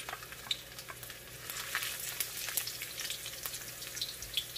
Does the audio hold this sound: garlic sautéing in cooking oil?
yes